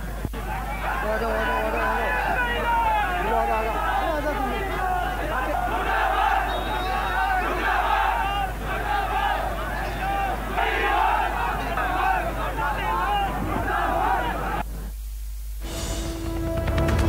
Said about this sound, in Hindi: भीड़ ने मंत्री के घर में घुसने की कोशिश की।